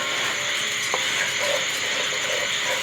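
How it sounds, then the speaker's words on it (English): Hot bacon grease is stirred in a pan to scrape loose stuck bacon bits, giving a steady sizzle with faint scraping and a soft tap near the start, close and continuous without talk. "We're just gonna give this grease a little stir here because it's got some stuck bacon on the bottom of here"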